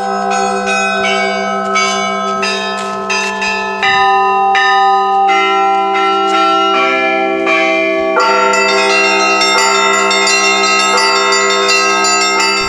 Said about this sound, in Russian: Завораживающий колокольный звон разливается по окрестностям Сии